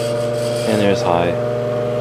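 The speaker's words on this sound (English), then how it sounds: "Very loud motor harmonics. It's putting off a good breeze now though." Antique GE Vortalex electric fan running on high, a steady motor hum with strong layered harmonic tones and airy whoosh, with a brief rubbing scrape partway through.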